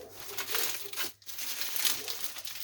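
A small plastic bubble-lined envelope crinkles and rustles up close while a parcel is unpacked, a steady papery crackle with one brief pause near the middle.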